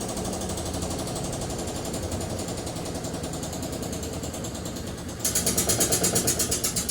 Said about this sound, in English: there's the moment of truth with a full load in it and when it does its final spin cycle